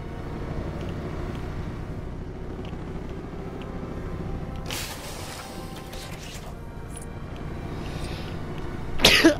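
A single sneeze bursts out near the end, close and sharp, over the steady hum of a video game's background sounds. There is a brief noisy rustle midway.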